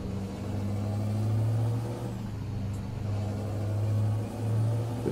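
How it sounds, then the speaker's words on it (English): A truck engine in the driving game Euro Truck Simulator 2 drones at a steady low rumble, swelling briefly louder twice as it revs, with no voices. "This truck does sound great"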